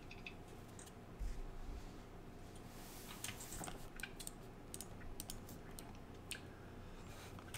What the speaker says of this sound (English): Sorry guys, I'm typing here.